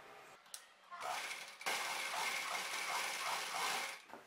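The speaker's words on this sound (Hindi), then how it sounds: "पहले हम ये एक साइड का आसन सिलाई करेंगे।" A sewing machine stitches the seat seam of a divided umbrella skirt, running in a steady mechanical whir with rapid ticking from about one second on, close and continuous, briefly pausing and restarting before stopping near the end.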